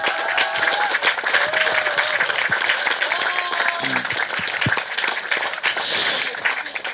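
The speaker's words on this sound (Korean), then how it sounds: "격려 박수 좀 부탁드립니다." A crowd at a political sit-in rally claps in encouragement, a dense, sustained applause throughout with some cheering and a faint voice underneath, moderately loud and close.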